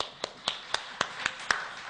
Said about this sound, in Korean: 여러분 박수로서 환영할까요?